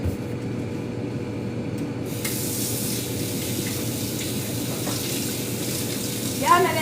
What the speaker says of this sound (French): on va faire la vaisselle, on va rincer notre affaire.